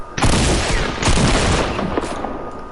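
A double-barrel shotgun fires in a video game. Several heavy blasts in quick succession boom loudly and close, each trailing into rumbling noise.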